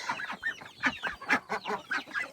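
Naked neck chickens in a chicken courtyard give a run of short, close clucks in quick rhythmic bursts, with no talking.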